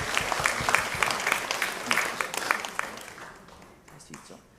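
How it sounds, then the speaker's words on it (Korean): Warm applause from a church congregation during a Sunday service prize ceremony, steady clapping that tapers off toward the end. "박수로 받겠습니다"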